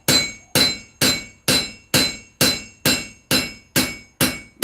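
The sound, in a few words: hammering out the edge of a forged Bowie knife blade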